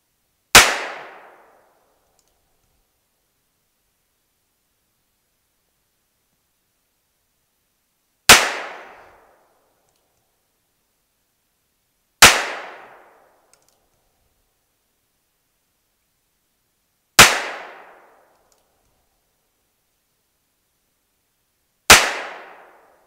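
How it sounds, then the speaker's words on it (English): Heritage Rough Rider single-action revolver fired outdoors: five sharp, loud reports spaced several seconds apart, each ringing briefly before fading into silence. "now let's go ahead and try six shots with the Heritage Rough Rider"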